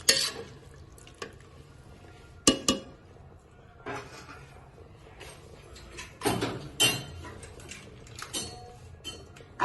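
A spoon scrapes and clinks against a pot while stirring mutton korma with onion paste and water, in irregular bursts of metallic knocks and wet swishing, close up with quiet pauses between.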